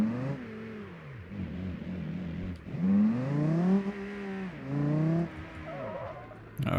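Racing video game car with an engine said to sound like a V10, revving up and down in repeated rising whines with gear shifts and tire squeal, loud and continuous with no talking.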